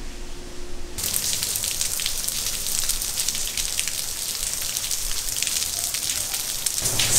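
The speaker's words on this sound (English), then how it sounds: "So we have not left yet because it is raining quite a bit." Heavy rain pours down outdoors at a Florida villa, a loud, dense, continuous roar that surges in after a quieter opening second and holds steady to the end.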